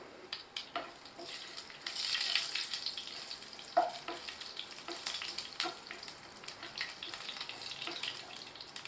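Curry leaves and a broken red chilli crackle in hot oil in a pan, giving a steady close sizzle with small pops and a brief louder spit.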